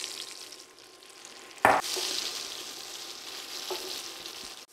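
Andouille sausage frying in a pan for creamy Cajun chicken pasta, a soft steady sizzle broken by one sharp clatter partway through, after which the frying grows a little louder.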